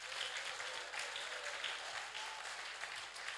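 A church congregation applauds together in acclaim, a dense, steady wash of clapping that holds at an even level throughout with no pauses.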